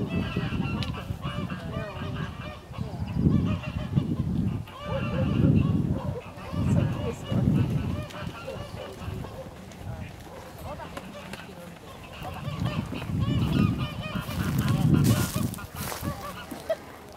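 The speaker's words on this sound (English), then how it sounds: "Oh, those darn geese." Geese honk repeatedly in bursts, fairly close, with a voice talking intermittently over the calls.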